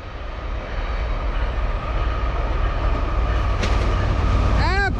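A Norfolk Southern freight train passes at a sunrise meet of two trains, a broad steady rumble building and holding, with a short sharp squeal toward the end.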